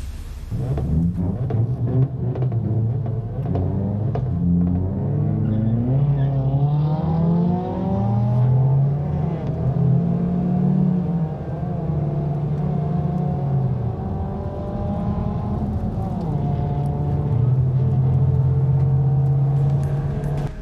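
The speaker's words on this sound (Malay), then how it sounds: "membunyikan enjin kereta secara maksima sewaktu lampu isyarat merah" A car engine revs hard and repeatedly at a red light during illegal street racing, with rising and falling engine tones and deep steady rumble throughout, loud and close with no talk.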